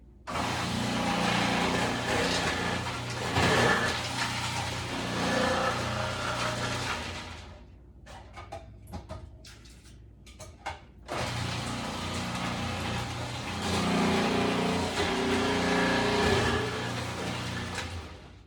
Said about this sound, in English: I'm going to throw them into the food processor.